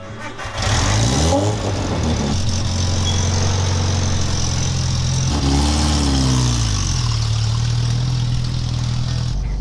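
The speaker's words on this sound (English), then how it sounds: "This thing runs so bad it sounds like it's got a camshaft in it." A Suzuki Samurai engine running rough, starting and then chugging unevenly with loud uneven revs that rise and fall, close by and continuous throughout.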